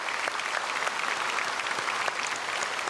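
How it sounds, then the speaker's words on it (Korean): Church congregation at a Sunday worship service applauding, steady, dense clapping from a large crowd throughout. "우리 박수로 축복하겠습니다."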